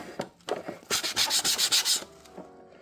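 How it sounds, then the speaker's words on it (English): A 120 grit sanding block rubs across wood, starting with a few scattered scrapes and then moving into a run of about eight rhythmic back-and-forth strokes, close and clear, before tapering off. "The second step is sanding using this 120 grit sanding block."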